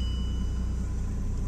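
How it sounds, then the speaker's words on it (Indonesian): A 2013 Bentley Continental GT Speed W12 engine runs smoothly at idle, giving a steady, even low hum with no revving. "Kita denger ya suara mesin halusnya V8."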